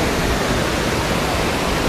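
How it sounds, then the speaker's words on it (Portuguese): Waterfall roaring steadily up close, a dense broadband rush of falling water that stays even throughout with no voices. "Vamos na cachoeira."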